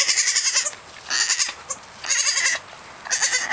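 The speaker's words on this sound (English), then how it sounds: "We have two new little goats." Young goats bleat in four loud, close bursts, each cry a wavering, buzzy call lasting about half a second, with short pauses between them.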